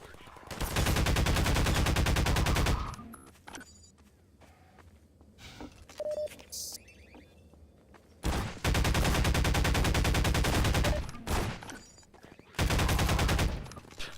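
Bursts of rapid automatic gunfire in the Half-Life mod Defendville, two long loud volleys separated by quieter stretches of footsteps and scattered single shots, then a third shorter burst near the end.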